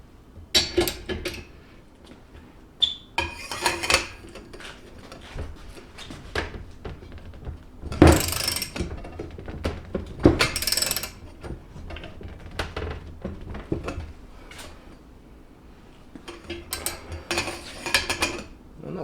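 A bolt cranked down with a tool to press swing arm bearings into a motorcycle swing arm, giving irregular metallic clanks, ratcheting clicks and scraping of tools close by, with louder knocks scattered through.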